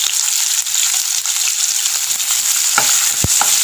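Curry leaves and mustard seeds crackle and sizzle in hot oil with sliced onion for Kerala squid masala, a dense continuous fry with a few sharp pops and knocks near the end; no speech.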